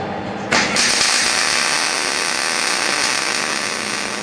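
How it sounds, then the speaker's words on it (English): Arc welder laying down a weld bead, a steady broadband crackling hiss that starts abruptly half a second in and holds at an even, loud level to the end. "we're going to go ahead and lay down another bead"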